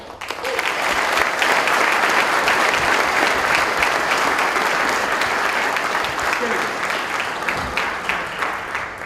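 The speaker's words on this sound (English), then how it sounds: "We give you a real quick round of applause for them." An audience at a Marine Corps Ball ceremony gives a sustained round of applause, a dense, even roar of clapping filling the room for several seconds.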